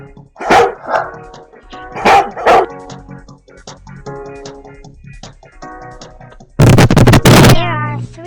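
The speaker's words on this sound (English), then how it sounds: "There are 3 dogs." Several dogs bark in a loud, dense burst near the end, after a stretch of quieter voiced sounds.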